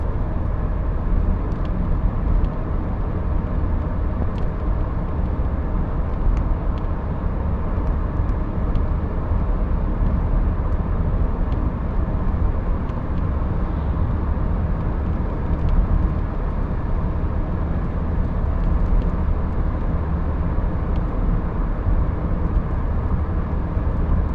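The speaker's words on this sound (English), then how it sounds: "There's a little road noise, but I mean, that's probably just the worn out tires." Steady, loud road noise inside a moving Toyota Corolla with worn tires, a constant low rumble and hum that continues without a break and with no talking.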